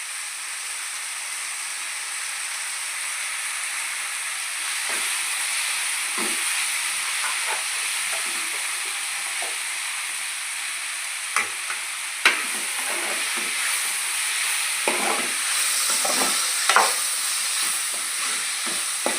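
Ivy gourd and dried shrimp curry frying in oil, producing a continuous loud sizzle and hiss with occasional sharp clicks and scrapes of stirring, close by and with no voices.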